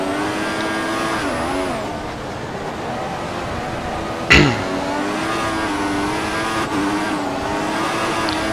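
F1 race cars in the F1 2014 game at the China circuit, mod 2015, scream past with high revving engines whose pitch rises and falls, plus a sharp brief burst midway; continuous loud engine whine throughout, no speech.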